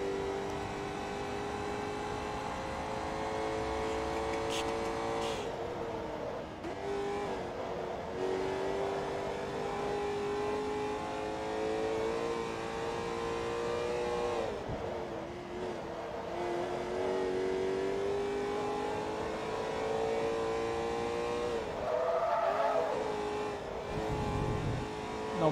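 A Corvette race car in Forza Motorsport 2 at Road Atlanta, its engine a steady, loud, high-pitched whine that climbs and dips with gear changes and throttle through corners, droning continuously throughout with no talk.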